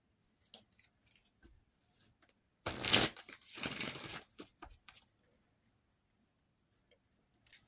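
A quick riffle of cards being shuffled, a brief crisp burst followed by a softer rustle, with scattered light ticks and handling sounds around it.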